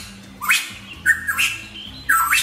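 Hooded pitohui, a medium-sized songbird of the New Guinea rainforest, giving three loud, clear whistled squawking calls in quick succession, close and distinct over faint background.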